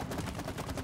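Gunfire in the video game It Takes Two comes as a quick, faint rattle of rapid shots lasting under a second, with no talking.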